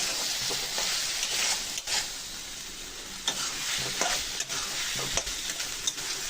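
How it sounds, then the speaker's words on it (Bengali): A spice masala sizzles and fries steadily in a pan, with scraping stir strokes and small knocks of the spoon recurring every second or so throughout, loud and close with no voices. "মশলাটা যতক্ষণ না ভাজায় ততক্ষণ পর্যন্ত এটাকে লাড়ে লাড়ে ভাজে নেব।"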